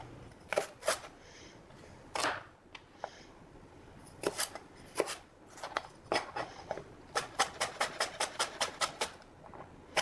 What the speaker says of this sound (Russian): Мелко нарезать нежную часть и листья ростка сельдерея.